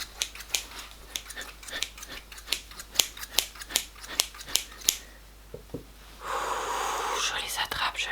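Scissors snip again and again in a steady rhythm, close and crisp, during a French-language ASMR reiki energy-healing roleplay, with soft whispering around the cuts before a rustling passage takes over near the end.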